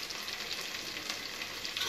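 Onions and green chillies fry with curry leaves in a pan, a faint, even hiss of sizzling oil throughout with no voices.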